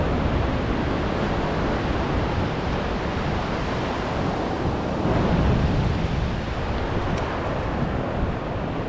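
Ocean surf breaking steadily on a beach during beach fishing for gamefish, a loud continuous wash of waves with a heavier swell around the middle and no voices.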